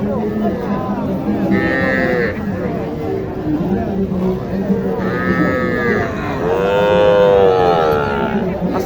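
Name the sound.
Sahiwal calf mooing at cattle market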